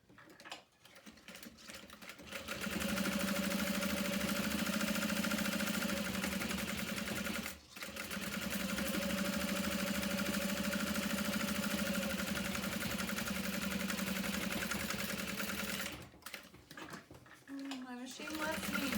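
A sewing machine stitches leather bag handles in two long continuous runs with a steady close hum and rapid needle rattle, separated by a short stop, with a brief stretch of speech near the end.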